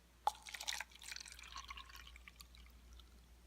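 250 milliliters of water poured onto 0.5 grams of ascorbic acid in a lab, a short faint splash and drip followed by a soft trickle that fades out.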